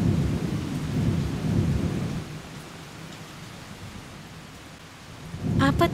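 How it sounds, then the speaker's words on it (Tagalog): Heavy rain pours steadily while deep thunder rumbles loudly at first, then fades to a softer wash of downpour before another rumble swells at the end; no voices. "At nagsimulang bumuhos ang malakas na ulan."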